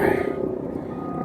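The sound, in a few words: helicopter flying overhead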